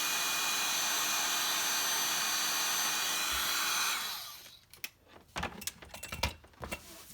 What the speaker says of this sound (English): you can see the powder melt as it gets hot from the heat tool.